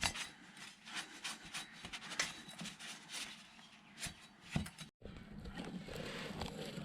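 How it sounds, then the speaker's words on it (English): A rag wipes down a car brake part on an Evo 8 being fitted with new pads and discs, making soft, faint scrubbing strokes in uneven bursts, with a brief dropout near the end. "Just a rag, wipe it down."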